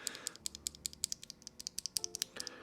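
Rapid clacking of a mechanical keyboard with lubed Zaku switches, a steady run of sharp bright clicks typed close up with no voices.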